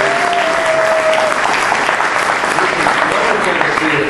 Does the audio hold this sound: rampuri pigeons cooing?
no